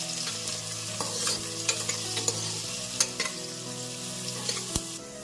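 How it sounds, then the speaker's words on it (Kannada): Green chilies and onions fry in hot oil for mutton pulao, a continuous close sizzle punctuated by repeated scraping stir strokes against the pan, with no talk. "ಇಲ್ಲಿ ಈರುಳ್ಳಿ ತುಂಬ ಕೆಂಪಗಾಗುವವರೆಗೂ ನಾವಿಲ್ಲಿ ಹುರ್ಕೋಬೇಕಾಗತ್ತೆ"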